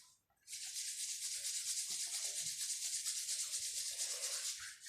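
Palms rub briskly together during a yoga session, a steady close hiss of skin on skin that keeps going for about four seconds after a short pause.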